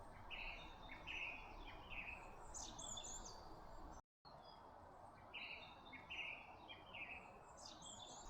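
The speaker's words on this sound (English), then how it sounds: "see if you can hear the birds chirping in the woods." Birds chirp and twitter in repeated short phrases over a steady outdoor hiss, fairly distant, with a brief dropout in the middle.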